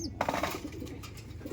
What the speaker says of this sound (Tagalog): Yan yung ibon natin.